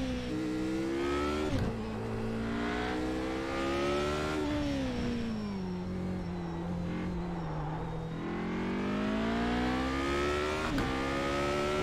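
A Radical SR8 race car engine roars around Silverstone in a racing video game, a continuous loud whine that climbs, dips through gear changes and revs back up, with no talk over it.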